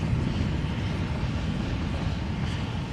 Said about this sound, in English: that's a Dreamliner taking off from